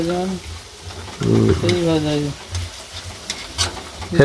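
Steady sizzling and stirring of a Kashmiri chilli spice paste frying in a pan, with voices talking loudly over it.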